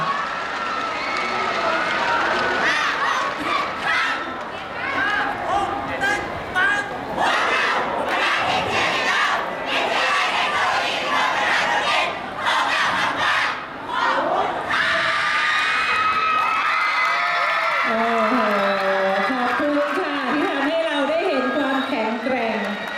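A cheerleading team from Wimol Business Administration Technological College at the Panchamit sports event chanting and shouting in unison, a loud group of voices rising and falling in rhythmic calls, with higher whoops toward the end.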